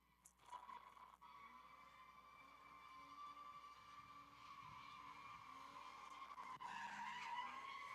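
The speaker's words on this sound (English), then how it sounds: "You can hear that big block sucking in air and drinking." Big block race car engine revving on a dirt track, a sustained droning howl with tire skidding and scraping, growing louder as the car nears, with no talk.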